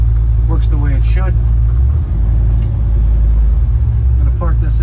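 A restored 1955 Chevrolet Bel Air cruises with a low, steady engine rumble and road noise from inside the cabin, while someone talks over it.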